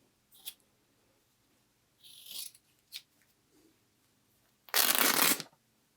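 Old fabric shirt being cut with scissors, a few short soft snips followed by one longer, louder crisp cutting rasp, close up in a quiet room with no talking.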